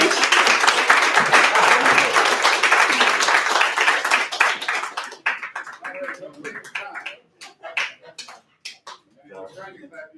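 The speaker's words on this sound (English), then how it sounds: "Clap them all the way up to the stage." An audience claps a poet up to the stage at a poetry night, with dense, sustained applause that thins into scattered claps, and voices mixed in.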